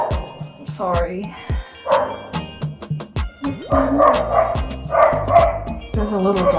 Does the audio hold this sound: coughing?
no